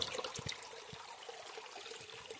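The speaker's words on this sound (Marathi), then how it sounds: "इकडून पाणी या दगडातून आतमधून पाणी येते" Quiet, steady trickle of water seeping out through rock into an enclosed village water source, dripping and running, with a few soft plops near the start.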